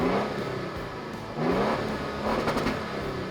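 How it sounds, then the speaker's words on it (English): Toyota Tundra truck with a V6 twin-turbo engine revving, a muted, fairly quiet engine note that swells in two short rev bursts over a steady running drone. "Now, this truck has a V6 twin turbo. It's not the best sounding."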